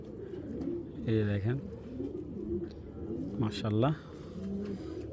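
A Babra (Napta) Giribaz pigeon coos in two clear bursts of low, bubbling calls, close by, with someone talking softly in between.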